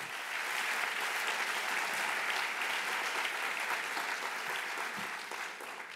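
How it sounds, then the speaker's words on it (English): Audience applause for staff at a Latino entrepreneurship forum, a steady, dense clapping crowd heard at moderate distance for several seconds, tapering slightly at the end. "Please give them a round of applause."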